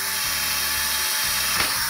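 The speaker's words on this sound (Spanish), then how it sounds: "Pongo la plantilla en la esquina y lo voy taladrando." A power drill boring through an aluminium kitchen cabinet fitted with a drilling template at the corner, a loud close whine that shifts pitch as the bit cuts, with no talk.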